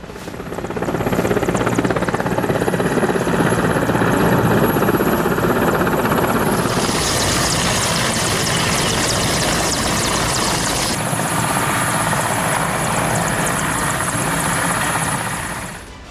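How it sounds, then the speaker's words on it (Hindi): Military helicopters fly during an Iranian naval exercise at sea near the Strait of Hormuz, their rotors and engines making a loud, continuous, close roar that holds steady throughout. "सैन्य अभ्यास में हेलीकॉप्टर्स ने भी हिस्सा लिया।"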